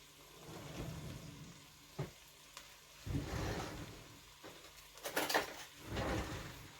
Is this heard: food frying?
yes